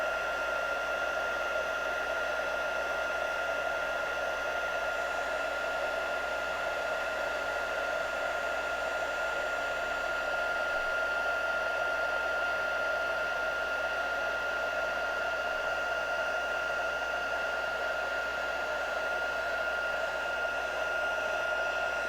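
A crafting heat gun blows hot air in a steady, unbroken whooshing roar with a constant motor whine, close to the mic and alone throughout.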